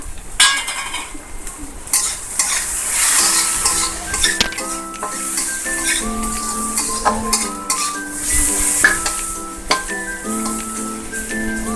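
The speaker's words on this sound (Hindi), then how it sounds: "एको एबे आपण सीम करी टिके भाजिबे।" Okra frying with turmeric, salt, chilli, cumin and coriander powder is stirred in a pan, giving a sizzle with clattering utensil scrapes and knocks, while a whistling melody plays over it.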